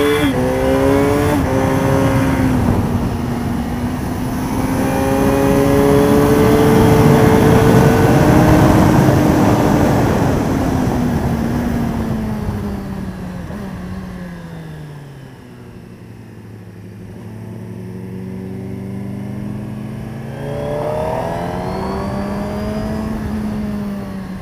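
Motorcycle accelerating hard on a race circuit at Le Vigeant with the rider's knee down, engine loud and close, revs climbing and dropping through several gear changes before a fading pass and another surge.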